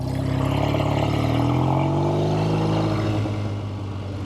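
A classic 1970 Triumph TR6 motorcycle being ridden, its engine giving a steady, close, loud drone that climbs in pitch as it accelerates and then eases off, with no talking.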